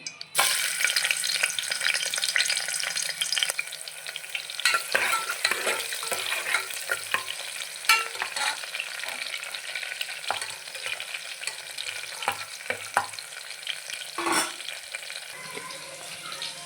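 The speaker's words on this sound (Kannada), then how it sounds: "ಎಣ್ಣೆ ಕಾದ ನಂತರ ಎಣ್ಣೆ ಕಾದಿದೆ, ಒಂದು ಈರುಳ್ಳಿ ಕಟ್ ಮಾಡ್ಕೊಂಡು ಹಾಕ್ತಾಯಿದ್ದೀನಿ." Chopped onion dropped into hot oil sizzles loudly at first, then settles into steady frying with scraping stir strokes and occasional clinks of a utensil against the pan.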